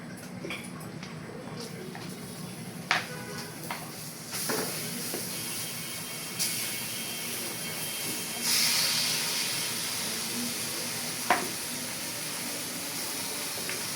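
Olives are tipped into melting sugar in a pan for a sweet olive pickle and sizzle with a steady moderate hiss, with a few sharp clinks and knocks, and no talk.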